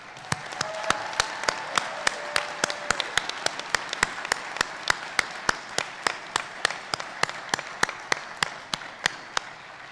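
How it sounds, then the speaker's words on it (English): At a 2021 commencement ceremony, a small number of hands clap in a sparse, regular rhythm of sharp, distinct claps, fairly close, over faint background noise, rather than a full crowd's roar. "Let's have a round of applause for all of them."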